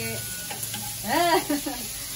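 Frying chicken sizzles steadily in a pan while a utensil scrapes and stirs, with one louder burst of stirring midway; the sound is close and moderate in level.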